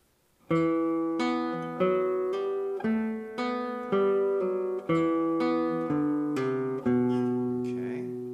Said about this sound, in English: is an open 2nd string B,